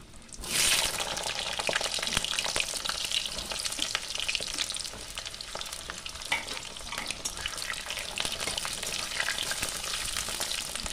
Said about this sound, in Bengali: আলুটা এবার লাল করে ভেজে নেব